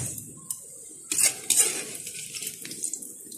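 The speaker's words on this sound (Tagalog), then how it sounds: "So, salain muna natin, guys, yung ating fries." French fries being strained to drain off the frying oil give light metallic clinks and rustles against a strainer, with a couple of louder scraping bursts and a soft sizzling hiss.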